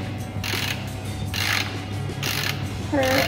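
A 17 mm ratchet tightens the oil drain plug on a BMW E39, giving four close, loud bursts of rapid pawl clicking at a steady rhythm over a low background hum, with no talking.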